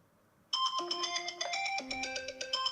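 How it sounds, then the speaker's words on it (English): A phone alarm starts abruptly after a short silence and keeps ringing in a loud, bright repeating electronic melody, close by and alone with no talk over it. "That's my alarm, sorry."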